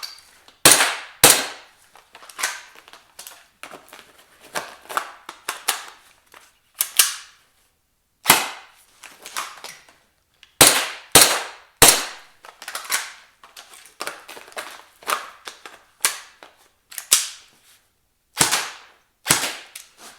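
An airsoft pistol fires in short bursts and single shots during beginner shooting drills, sharp close cracks arriving in irregular clusters with brief pauses between strings over about twenty seconds.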